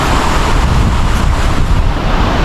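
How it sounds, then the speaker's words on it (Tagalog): Ocean waves at a fishing spot, with a growing current and bigger swells: a dense, continuous close roar of surging water with wind rumble across the microphone. "Mas lumaki ang alon ngayon."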